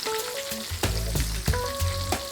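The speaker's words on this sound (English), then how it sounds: "Our fish is frying nicely." Fish coated in white cornmeal sizzles and crackles steadily in hot oil, close by, with a few clattering knocks from a utensil or pan over the constant frying.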